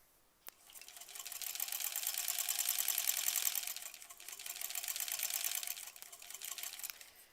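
A sewing machine stitches a quilt block in a rapid, even mechanical whir, running in several bursts that swell and ease with short pauses between them. The sound is close and fairly quiet, with a small click near the start.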